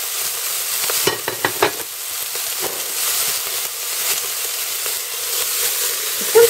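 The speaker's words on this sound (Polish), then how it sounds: "W jakimś takim wyższym naczyniu albo w brytwance obsmażam sobie" Bacon sizzling in a tall pot or roasting pan, a continuous bright crackling hiss with a few sharp clicks and scrapes of stirring early on, close and steady without talk.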